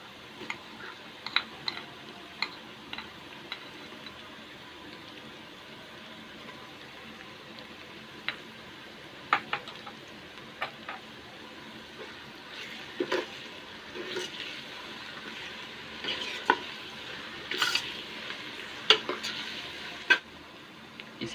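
Ginger garlic paste, three spoonfuls, fries in a pan for beef korma with a steady soft sizzle, broken by intermittent scraping and clinking of a spoon stirring, close and alone with no talking.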